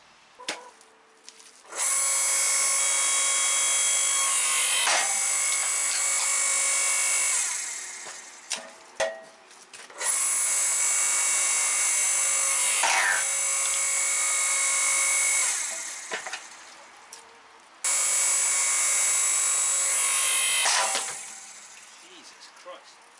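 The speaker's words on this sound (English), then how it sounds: "some of these pieces of wood are split in with quite a pop" Titan 1.5 kW electric log splitter (TTB685LSP) working through hardwood, its motor droning in three long sustained runs separated by brief pauses and sharp cracks of splitting wood.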